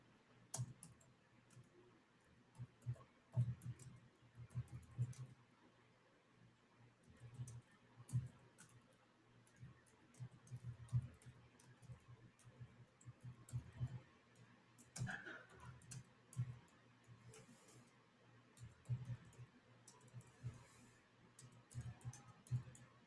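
Irregular, faint clicks of typing on a computer keyboard come in short bursts and scattered single taps, close by and quiet, with occasional soft voice sounds in the background.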